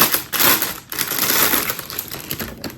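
Crinkly plastic rustles and crackles steadily as a wrapper is pulled open, with a brief pause between bursts.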